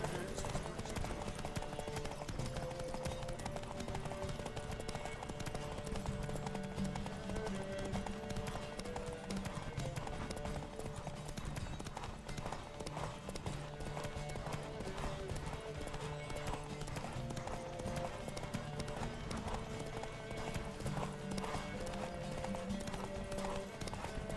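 A horse gallops in a race in The Witcher 3, its quick, rhythmic hoofbeats pounding continuously under game music.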